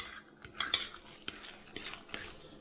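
Keto pandesal cheese bread dough is worked in a bowl, giving irregular scraping knocks and light clinks of a utensil against the bowl, close and fairly quiet, with no voices.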